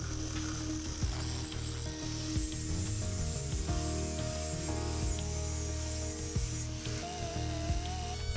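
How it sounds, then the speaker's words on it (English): Power grinders work over the surface of a cast bronze temple bell of about five tons, a dense continuous rasping and scraping at close range with shifting pitch and a few metallic ringing tones. "Using grinders, they expose the fresh bronze underneath."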